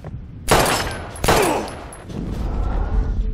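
Gunfire in the video game Life Is Strange: two loud, sharp shots about a second apart, each with a long echoing tail, followed by a low rumbling ambience.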